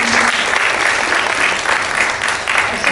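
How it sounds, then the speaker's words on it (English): Dense applause from a panel-discussion audience at a university event, loud and sustained with no break, a thick wash of many hands clapping together. "maybe we give her a second round of applause"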